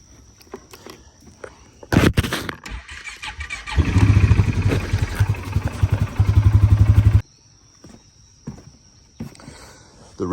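A vehicle engine rumbles low, then opens up for about three seconds of loud, throaty revving at the throttle with exhaust roar, ending in rapid pulsing before cutting back to quiet clatter and scuffing.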